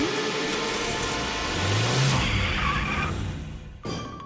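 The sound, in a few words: car being driven out, engine revving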